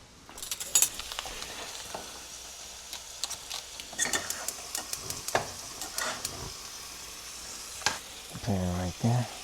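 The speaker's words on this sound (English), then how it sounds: "Some of the thick cut bacon right here. I forgot to add it to the pan." Thick-cut bacon fries in a pan with dense, close crackling and irregular spitting pops throughout, and a brief voice is heard near the end.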